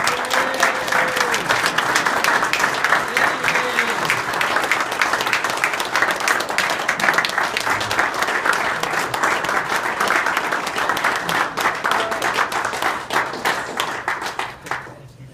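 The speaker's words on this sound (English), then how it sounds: "would you all give it a lot of applause" Dense, steady applause from an audience at an award ceremony, loud and close, holding for about fifteen seconds before tapering off, with a voice briefly heard near the start.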